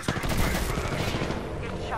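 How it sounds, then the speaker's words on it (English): Loud, dense bursts of gunfire from an Apex Legends match crackle close by in rapid succession, with the player's voice briefly audible over the shooting. "I'm getting shot."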